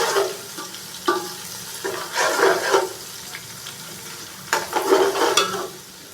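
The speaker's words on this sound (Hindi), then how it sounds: "अदरक और लहसुन के पेस्ट को हल्का सा फ्राई करेंगे।" Ginger-garlic paste sizzles in hot oil in a pan as a spoon stirs it in a vegetable pulao preparation: a close, crackling fry with bursts of scraping and stirring, and no talking.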